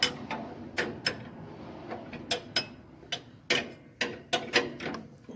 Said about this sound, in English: I've got a 3/4 inch wrench that seems to fit